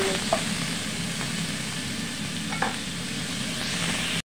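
Tofu sisig frying in a dry pan with no oil, a steady soft sizzle with occasional stirring scrapes throughout, moderately close and without talk.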